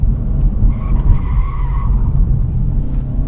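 A 2023 Acura Integra with a six-speed manual squeals its tires on a ramp in lift-off oversteer, a loud brief skid over heavy road and engine rumble inside the car.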